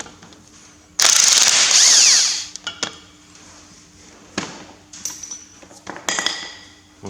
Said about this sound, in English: I'll take the bolt right out.